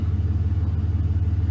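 A Chevrolet V8 truck with a 4.8, 5.3 or 6.0 engine, 2003 to 2006, heard from close by with a steady, deep, pulsing rumble that holds even throughout.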